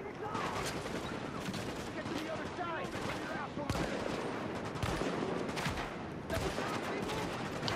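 Automatic gunfire in Tom Clancy's The Division, sustained rattling bursts with sharper shots breaking through, a continuous firefight at moderate loudness.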